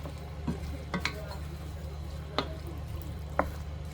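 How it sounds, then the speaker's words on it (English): Ground beef begins browning in a pan, a soft steady sizzle under a low hum, with a few sharp spoon scrapes and taps spaced apart, close and unaccompanied by talk. "now we're going to just start browning this off"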